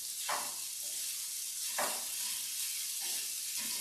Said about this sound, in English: We're just going to keep browning that for a little bit longer.